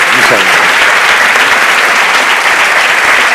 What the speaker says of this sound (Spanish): dedicarles un enorme aplauso